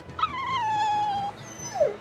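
A dog in the video game Tales of Berseria lets out a drawn-out, high whimpering whine, followed by a short rising yelp, close and clear with no talking.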